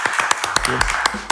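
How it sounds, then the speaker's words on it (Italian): Scattered hand claps from a small group in a studio after a guest's interview, a few sharp distinct claps rather than a full crowd, with a voice murmuring underneath. "Applausi."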